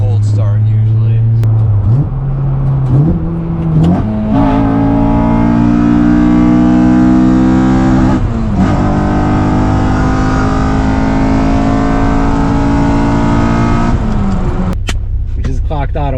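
An Acura TSX engine runs after a cold start, a loud, close, steady tone that climbs in pitch in steps as it revs up, then settles and holds; a voice speaks over it.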